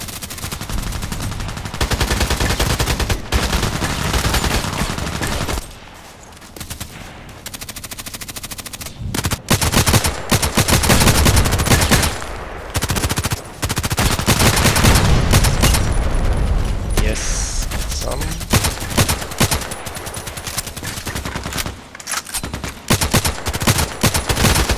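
Heavy automatic gunfire in the video game Contract Wars, long loud machine-gun bursts with short pauses between them that continue across the whole stretch.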